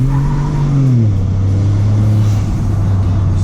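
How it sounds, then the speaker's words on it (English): Tuned Ford F150 EcoBoost pickup on 33-inch Nitto Ridge Grappler tires accelerating hard on a back road: a loud, steady engine drone rising then settling into a sustained roar, with tire spin, heard from inside the cab. "Just kind of get on it real quick over here in this back road,"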